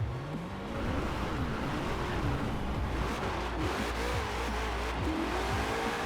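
A 2020 Shelby GT500 with rear-wheel drive runs in the racing game Forza Horizon 4, its engine droning loud and continuous as the revs repeatedly rise and fall through the gears.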